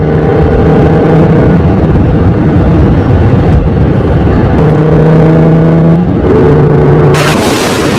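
A merchant's car drives into a village. The engine sound effect is loud and constant, a steady droning hum whose pitch shifts slightly as the car approaches.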